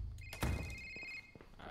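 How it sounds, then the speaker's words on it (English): A telephone rings in the horror video game Krampus is Home, a thin steady electronic ring tone held for about a second after a dull thunk, quiet and alone with no talk. "Phone is ringing."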